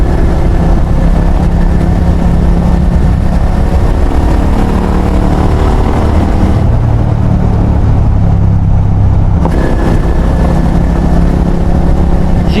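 A GT650 motorcycle engine runs during a test ride in Australia just after an oil change, a loud continuous drone mixed with heavy wind rush, briefly shifting pitch midway, with no talking.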